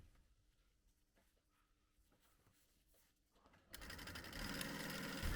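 Domestic sewing machine stitching a seam on fabric. It starts out faint and quiet, then runs loud and steady in a continuous whirring burst through the final couple of seconds, with no voices.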